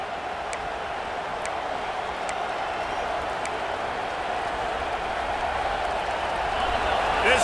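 Roaring college football stadium crowd at USC versus Notre Dame, a continuous loud wash of cheering and applause that gradually swells, with a commentator speaking over it.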